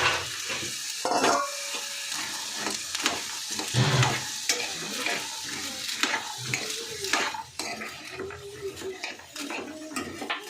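Raw green chickpeas sizzle in a hot pan as a spoon stirs and scrapes through them, producing a steady frying hiss broken by repeated clinking strokes, close and fairly loud.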